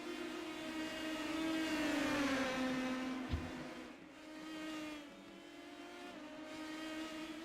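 Race cars on track at North Wilkesboro in iRacing, engines droning and shifting pitch as they pass, rising and fading through the stretch at a moderate distance, without talk.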